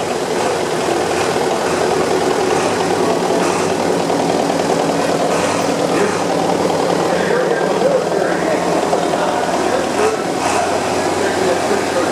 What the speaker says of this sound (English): Here we have Rob Ryan, an excellent example of a John Deere 4020 diesel. It's a 1964